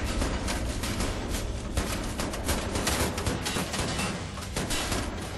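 Dense, continuous gunfire in the Wolfenstein: The New Order video game, loud, rapid shots packed together without a break.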